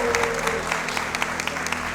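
A television studio audience applauds a reconciliation between two guests on a talk show, brisk clapping under a steady low background hum.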